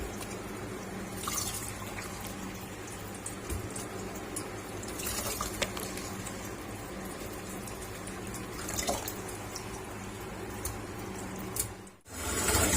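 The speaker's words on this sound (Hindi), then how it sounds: "फिर से हम इस तरह से पानी के अंदर ऐड कर लेंगे।" Tap water runs steadily into a bowl of raw chicken pieces as they are rinsed in a home kitchen, a continuous splashing trickle with occasional drips and no talking.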